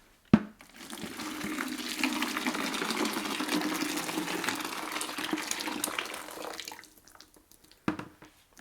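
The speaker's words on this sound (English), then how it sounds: "Then you will pour the hot water" Hot water pours into a bucket holding conditioner, a steady splashing stream for several seconds after a knock at the start, fairly soft and close, ending with a couple of faint clunks.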